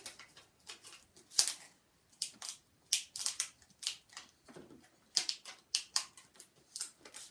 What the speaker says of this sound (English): What you can do on a curve is kind of snip down so that you can overlap some.